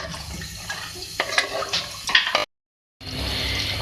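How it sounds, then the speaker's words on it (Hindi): Water splashes and gushes into a cooking pot for beef and cauliflower handi, a steady close pour with brief splashy bursts, cut off by a short silence before resuming. "3 गिलास इसके अंदर मैं पानी ऐड कर रही हूँ"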